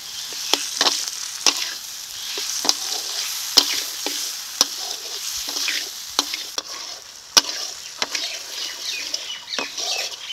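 Spice masala with turmeric, salt and chopped tomato is stir-fried in a pan, a sizzling bed under sharp, irregular scrapes and knocks of the spoon against the pan.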